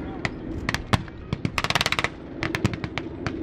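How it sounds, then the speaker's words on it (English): An MG-42 machine gun mounted on a StuG assault gun fires during a World War II battle reenactment: sharp bursts of rapid, crackling shots, including one fast continuous volley, with scattered single reports and a busy outdoor background. "You can hear the machine gun on the Stug. That's the famous MG-42."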